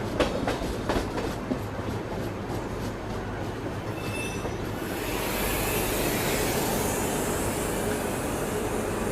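Mumbai–Howrah Duronto Express, Indian Railways, runs along the tracks with a steady loud rumble, rhythmic wheel clacks early on, then a broader rushing roar with faint squealing.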